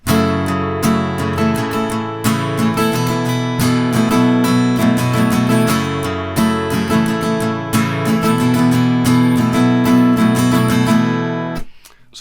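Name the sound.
guitar playing main riff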